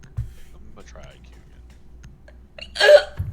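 A woman's hiccup lands as one sharp, loud vocal burst near the end, after a quiet stretch with faint clicks and murmurs.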